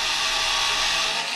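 A Hychika 3.6V cordless power screwdriver runs in drill mode, a steady close whirring buzz held evenly for the whole moment without any voices.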